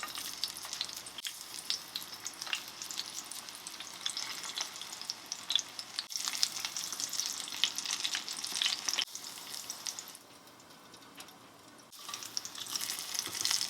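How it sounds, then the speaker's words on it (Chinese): Scallion pancake frying in hot oil in a pan, a steady close sizzle and crackle running throughout, with a few brief pauses and louder bursts. "油热了之后，就可以把饼放入了。"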